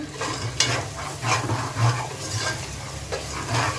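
Spice paste fries in hot oil for a Bengali chicken, potato and pointed gourd dish, with a continuous sizzle under repeated scraping strokes of a spoon stirring the pan, close and fairly loud.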